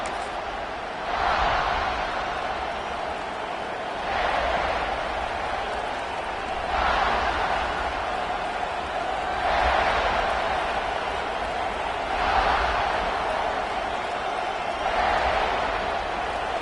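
College football stadium crowd at a Gamecocks game, a broad steady roar that surges in rhythmic waves every few seconds, heard from a distance under the broadcast.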